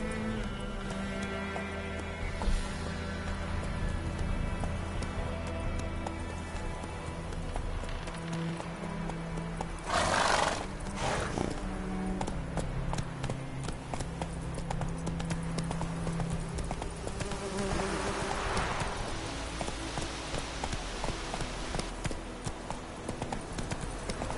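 Horse galloping in The Witcher 3, a steady rapid clip-clop of hooves running throughout, with a louder whoosh midway and ambient game sound beneath.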